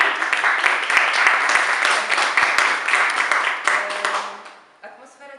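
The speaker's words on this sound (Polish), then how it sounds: "Także wielkie brawa jeszcze raz." Concert audience in the Kashubian Museum in Wejherowo applauds steadily, a dense wash of many hands clapping that thins and fades toward the end.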